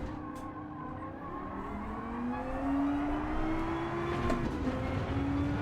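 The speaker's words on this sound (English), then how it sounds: "Car drifted out of there beautifully." A Lamborghini Gallardo race car drifts through a corner in the Gran Turismo 7 game at a Tokyo race, its engine droning steadily with a rising, whining pitch and a faint tire skid, loud and continuous.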